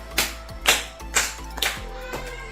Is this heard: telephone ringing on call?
no